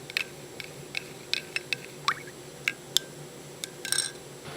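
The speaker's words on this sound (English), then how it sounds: "Stir that up." Spoon stirring tea in a cup after the bag is removed: a handful of light clinks and taps against the side at uneven intervals, close and fairly quiet, with no talking.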